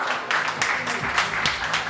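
Applause from an audience at an oath-taking ceremony for clerks' association office-bearers in Kamalia, a steady patter of clapping with sharper bursts, fairly close and lasting throughout.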